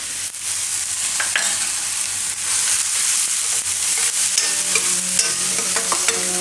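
Grated ginger and onion sizzle steadily in a hot pan for a sauce, a continuous loud frying hiss with occasional stirring scrapes and no talking.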